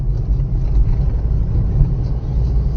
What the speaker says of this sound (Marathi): इथे गॅसची गाडी चालली आहे